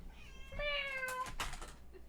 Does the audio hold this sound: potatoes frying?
no